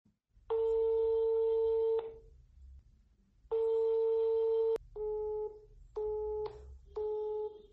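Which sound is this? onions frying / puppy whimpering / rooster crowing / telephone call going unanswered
telephone call going unanswered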